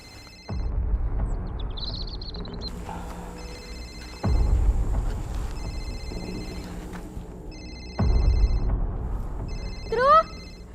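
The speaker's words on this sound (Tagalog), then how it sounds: "Tay, parang naririnig ko po yung cellphone ni Drew." A cellphone rings in repeated electronic bursts at a moderate distance, with loud thuds between the rings and a brief rising chirp near the end, and no one speaks.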